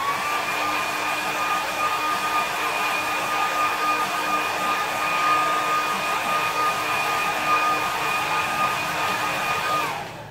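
A hair dryer blows a steady, loud whir with a constant whine across a watercolour landscape painting for about ten seconds, cutting off abruptly at the end.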